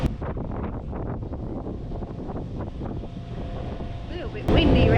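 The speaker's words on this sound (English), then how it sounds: "A little bit windy around this side" Gusty wind buffets the microphone with low rumbling bursts, outdoors on Lady Musgrave Island, Great Barrier Reef, rising to a louder roar at the end.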